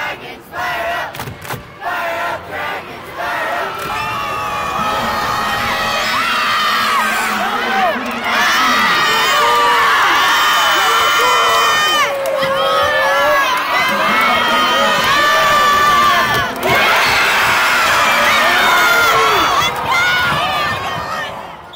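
A basketball crowd at the Hardwood Classic in Spokane roars with sustained cheering, whoops and shouting from many voices, loud and continuous throughout with a few brief dips.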